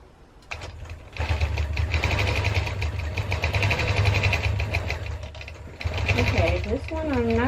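A longarm quilting machine stitching binding onto a quilt's edge runs in a steady, close mechanical whir for several seconds and pauses briefly before starting again, while a voice speaks near the end.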